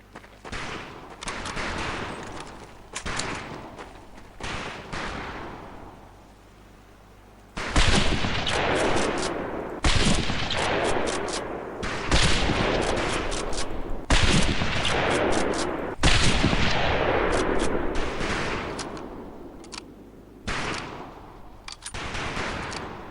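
Repeated scoped rifle shots fired at long-range targets on a shooting range in the video game Medal of Honor Pacific Assault, loud sharp cracks with ringing tails, coming in irregular bursts after a quieter opening stretch.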